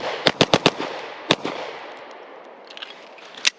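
Sharp pistol shots from a video game shooting range, a quick burst of four evenly spaced cracks, then a single shot, and a last one after a pause, all loud and close with no talk.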